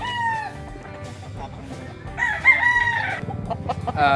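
Nearby chickens cluck while a rooster crows loudly midway, with more clucking and calls around it in a busy farmyard.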